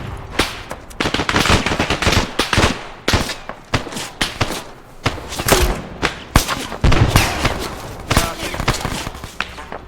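Machine gun fire from a tower in a combat video game, heard as repeated bursts of sharp shots and thuds across the whole stretch, with voices talking over the gunfire.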